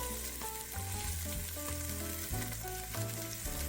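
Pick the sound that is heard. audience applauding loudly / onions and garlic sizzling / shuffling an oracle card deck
onions and garlic sizzling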